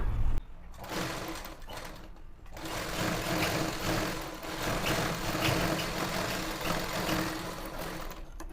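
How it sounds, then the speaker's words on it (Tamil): A sewing machine stitches lined chudithar fabric with a fast, continuous mechanical whir up close, briefly pausing twice early on before running steadily to the end. "ரெண்டையும் அப்படியே வச்சு நான் வந்து தைக்க போகிறேன்"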